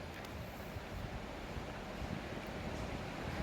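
The Kasipatnam waterfall near Vizag roars in a steady, dense rush of falling water, unbroken and fairly loud throughout, with no voices over it.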